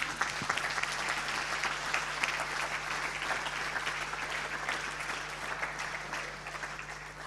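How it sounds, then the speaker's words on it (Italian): Sustained audience applause at a Paralympic sports gala in Veneto, a dense steady clapping from a large crowd heard alone, moderately distant, continuing for several seconds. "Facciamo comunque un grandissimo applauso per Antonio Fantin."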